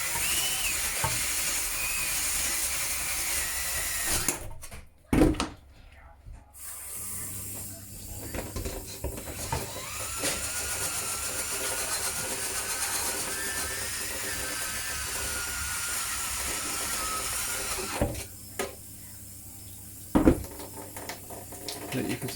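A drill brush spinning on a power drill scrubs a cooking pan, a steady whirring hiss with a high tonal whine that runs for long stretches, broken by brief pauses and a couple of sharp knocks.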